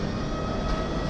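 A brief, steady roar of an Indian Railways train hauled by a powerful double locomotive, a dense continuous rumble with no distinct beats.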